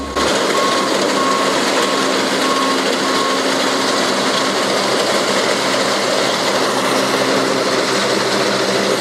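A loud, steady engine roar from a combine harvester at full throttle on a steep slope, droning continuously without a break.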